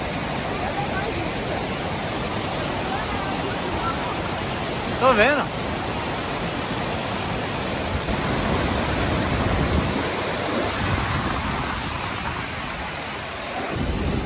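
A waterfall in Norway roars as a steady, broad rush of falling water close by, with brief speech and small handling noises over it.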